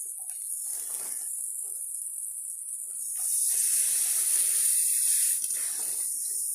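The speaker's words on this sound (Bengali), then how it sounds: "মশলা ভাজা হয়ে গেলে এর মধ্যে সামান্য একটু নারিকেলের দুধ দিয়ে মশলাটি আরও কিছুক্ষণ কষিয়ে নিব।" Spice paste sizzles in a pan with a splash of coconut milk while an amra korma with duck eggs is cooked, a steady bright hiss that swells louder midway, with faint stirring scrapes underneath.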